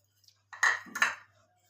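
Boiled potatoes being mashed with a masher, two close metallic clinks and thuds against a pot in quick succession, with a faint low hum underneath and no talking.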